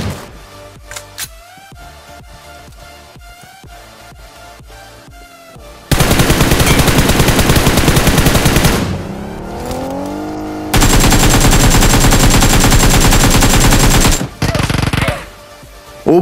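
Gunfire in the video game PUBG Mobile during a solo versus squad match, with spaced single shots first and then long dense bursts of rapid automatic fire, loud and close, with vehicle noise mixed in.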